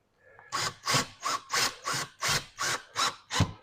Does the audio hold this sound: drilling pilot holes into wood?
yes